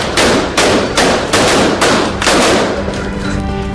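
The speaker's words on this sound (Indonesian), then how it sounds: "warga Cali di Kolombia meluncurkan kembang api dan membakar boneka-boneka diiringi musik dan sorak-sorai di jalanan" Fireworks bursting at a New Year's Eve street celebration in Cali, Colombia: a series of loud, sharp booms and crackling explosions roughly every half second, near and dense, fading into a lingering crackle.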